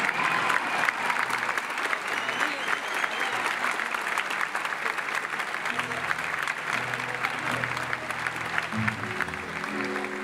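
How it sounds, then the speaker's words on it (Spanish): Audience at a stage show of stories and songs clapping loudly and continuously, with voices rising over the applause toward the end. "Fuerte el aplauso."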